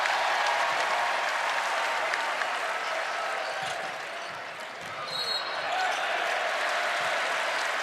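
Crowd at John Paul Jones Arena for a Georgia Tech vs. Virginia men's college basketball game roars and cheers steadily, with a brief dip before swelling again, a commentator's voice faintly underneath.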